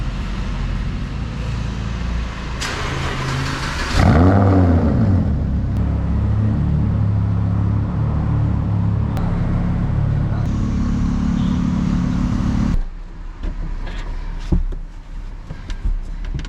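Lamborghini Huracan engine during a cold start: a sharp rising rev flare, then a loud steady rumbling idle, close by, before the sound drops to a quieter idle.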